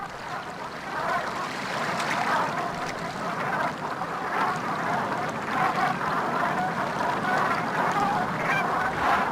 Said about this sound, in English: Black brant geese flock here to feed on their favorite food